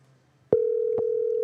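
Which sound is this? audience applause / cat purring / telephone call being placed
telephone call being placed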